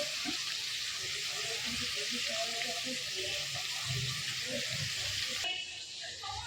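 Mixed vegetables with cauliflower frying in a pan for veg fried rice give a steady soft sizzle, with low clatter and a voice speaking underneath.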